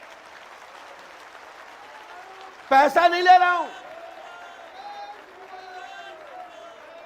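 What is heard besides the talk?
audience clapping at a religious gathering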